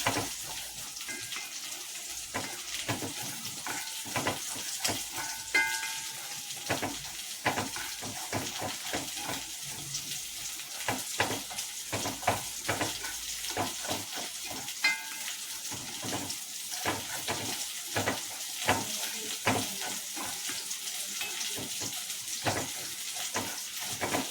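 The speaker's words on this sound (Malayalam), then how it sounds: "ഇത് നന്നായിട്ട് നമുക്കൊന്ന് വറുത്തെടുക്കാം" Continuous crackling and hissing of grated coconut and spices roasting golden in a pan, with frequent scraping stirs throughout.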